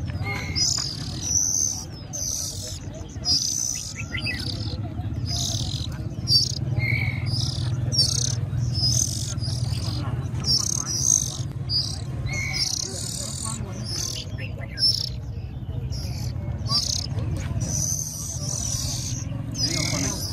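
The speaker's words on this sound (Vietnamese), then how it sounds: "Hôm nay khá nhiều chim non đây nhỉ, khá nhiều đồ bán." Many baby birds, including red-whiskered bulbuls and magpie robins, chirp in dense high twittering at an outdoor bird market, steady throughout under a low crowd murmur and nearby voices talking.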